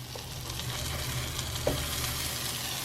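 Pancakes sizzling steadily in a skillet, a continuous close frying hiss with a faint low hum and one small tick near the middle; no talking.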